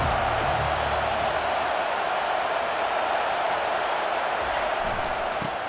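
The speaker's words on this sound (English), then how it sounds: "This crowd bringing an ear-splitting welcome to their visitors" Stadium crowd in EA Sports College Football 25 roaring as the visiting team takes the field, a dense, steady wall of cheering noise at constant loudness throughout.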